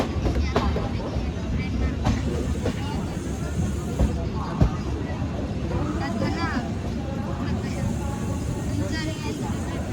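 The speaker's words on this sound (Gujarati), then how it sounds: "બહુ ફાસ્ટ ટ્રેન ચાલે છે" The Saurashtra Janta Express runs at speed, a continuous rumbling rattle of carriages with clacking wheel beats, heard from inside the train as people talk over it.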